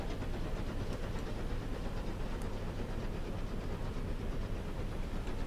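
Trains in the Transport Fever video game, a continuous dense rumble of rolling rail noise with faint clattering, steady and moderately loud with no voices.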